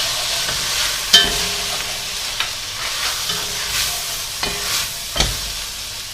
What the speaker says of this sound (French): Alors, je vais ajouter le vinaigre.